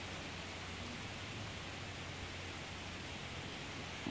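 Steady rain from Tropical Storm Bertha falling on St. Croix in the U.S. Virgin Islands, a dense, even hiss of downpour that stays constant throughout with no voices.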